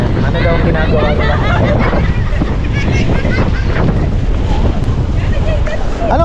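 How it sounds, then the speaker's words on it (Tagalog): Strong amihan wind at Casapsapan beach in Casiguran, Aurora, roaring loudly into the microphone in constant buffeting gusts, with surf underneath and people talking at a distance. "Kaya lang talagang medyo mahangin po ano"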